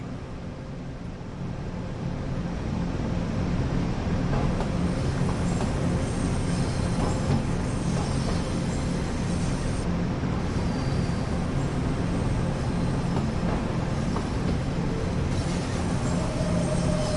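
Steady rumble of a BR 182 electric locomotive in Train Sim World 2 on the Hamburg–Lübeck line, with a droning, musical hum and rail noise, continuous and fairly loud throughout.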